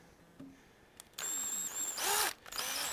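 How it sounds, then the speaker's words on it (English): Power drill being set up for drilling into a broken chair leg, with short bursts of motor whine starting and stopping at varying speeds, close and fairly loud. "So I hold it, whoops, to set my speed for drilling."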